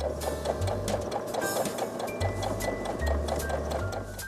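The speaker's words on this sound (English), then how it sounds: "I'm sewing right on the line that Mary drew for me." A sewing machine stitches flying geese quilt pieces along a drawn line, a close continuous rhythmic mechanical whirring with a steady needle patter.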